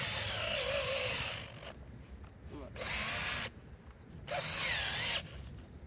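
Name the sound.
power auger drilling a hole in ground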